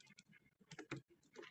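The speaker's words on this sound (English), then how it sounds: "I'm typing it in the Zoom chat" Quiet typing on a computer keyboard in a Zoom chat, a quick uneven burst of close key clicks with short pauses between groups of strokes.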